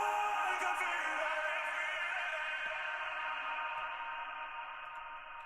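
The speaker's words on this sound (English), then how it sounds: "So that comes in straight off the bat with a really heavily reverbed vocal." A heavily reverbed vocal in an FL Studio track, sounding as a fully wet, washed-out sustained tone with long decay that slowly fades, distant and airy with little dry signal.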